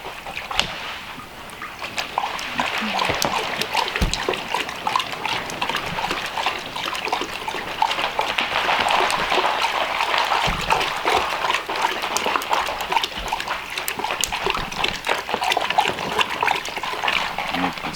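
Biodynamic preparation being hand-stirred in water with a paddle, giving a continuous close sloshing, splashing and trickling that churns steadily throughout with no break.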